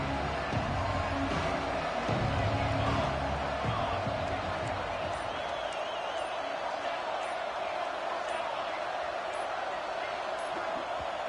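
A roaring stadium crowd at an Oklahoma versus Mississippi State college football game sends up a broad, sustained wall of noise, loudest near the start and then holding steady.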